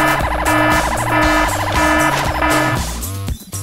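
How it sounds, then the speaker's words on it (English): The Purity Ring 3000 alarm blares at close range as a loud, piercing electronic wail that cycles rapidly up and down like a car alarm, then cuts off abruptly near the end. "it triggers an ear-piercing alarm and blinding strobe light"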